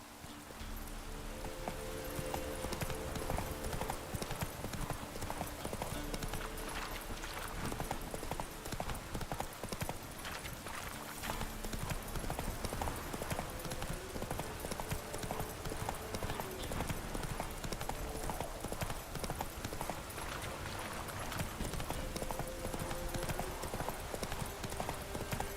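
Roach the horse's hooves clip-clop steadily at a walking pace in The Witcher 3, a continuous rhythmic clatter under dense game ambience and score.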